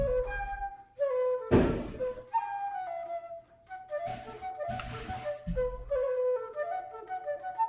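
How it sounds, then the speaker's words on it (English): July 4th fireworks in Washington DC thud and boom in the distance, several dull blasts spaced over several seconds over a steady tonal background hum. "You guys hear those fireworks going off?"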